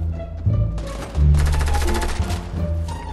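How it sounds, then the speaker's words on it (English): Rapid automatic gunfire crackles in Fortnite on PS4, a dense burst of close shots after a brief pause, loud and clipped, with overlapping rattling volleys. "Oh, he's shooting this guy right in front of me!"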